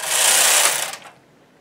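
Knitting machine carriage pushed from right to left across a row, knitting some needles and slipping others, giving a brief, close, raspy mechanical swish that lasts about a second and then stops.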